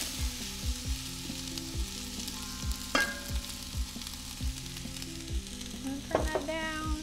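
Chopped onion and celery frying in a pot with melted fat for a Cajun-style dish, a steady sizzle broken by repeated stirring scrapes and clunks of a utensil against the pot, close and moderately loud, with no talking.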